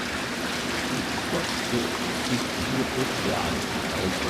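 Water from the waterfall feature of an Arctic Spas Ocean swim spa runs steadily, a continuous splashing rush with no pauses, close and fairly loud throughout.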